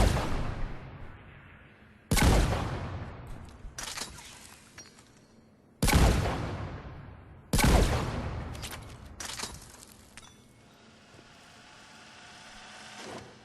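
Wraith shotgun blasts from the Mass Effect 3 game, five loud, heavy booms spaced a couple of seconds apart, each followed by a long decaying rumble and scattered debris-like crackle.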